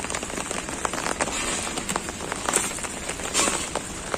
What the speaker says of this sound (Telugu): ఇలా ఫ్రెష్గా వర్షం పడేటప్పుడు ఇంకా మనం కడిగినట్టు అయిపోతుంది కదా